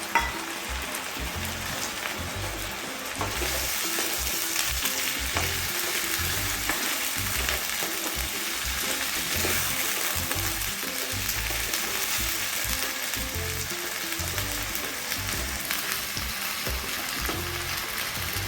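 A ground paste of ginger, onion, garlic, tomato and green chilli hits a pan of fried potato and cauliflower, giving a loud, steady close sizzle with scraping stirs, rising sharply after the first few seconds and holding dense throughout, no voices.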